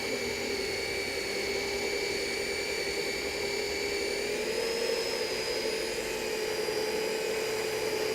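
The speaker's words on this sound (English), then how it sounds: "inside the pad washer, it's actually scrubbing the pad clean and taking off all the nasty dirt" Universal pad washer scrubbing a car polishing pad clean, a steady whining motor drone with a constant high whir, close and unbroken for several seconds with no voices.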